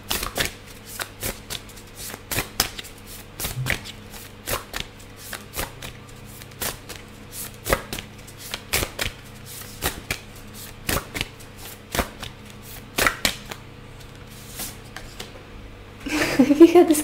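Tarot cards being shuffled by hand, a quick run of crisp, regular riffling snaps close up, with a brief louder rustle at the end.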